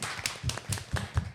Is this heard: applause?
yes